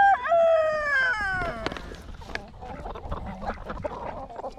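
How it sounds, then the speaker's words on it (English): Chickens and a rooster at a feeder give a loud, clear call at the start, followed by softer clucks and squawks with background noise. "thank you, Mr. Rooster"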